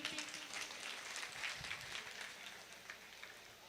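Applause from a seated audience at a business seminar in Kasganj, a steady wash of many hands clapping at moderate loudness throughout, with faint voices beneath.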